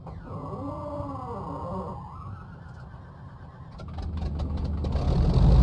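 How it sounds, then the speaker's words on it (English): A Grumman F4F Wildcat's engine cranks and fires up in Microsoft Flight Simulator, with a whining starter giving way to a rough, building mechanical roar that grows louder and more sustained toward the end. "Nice amount of smoke there as well from the engine as it fires up."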